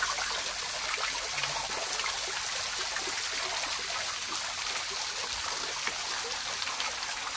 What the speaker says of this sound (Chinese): 这个有瀑布， 啊，可以听到流水声音啊